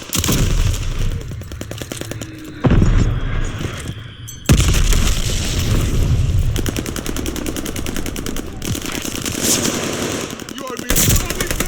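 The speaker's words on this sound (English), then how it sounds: "Tossing grenade!" Gunfire and an explosion in the first-person shooter Call of Duty Vanguard on PC: loud, sustained rapid machine-gun bursts with heavy booming impacts cutting in, dense and close throughout.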